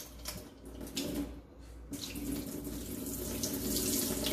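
Water runs steadily from a tap over sprouts being rinsed in a jar, a continuous close splashing stream with slight shifts in flow and no voices.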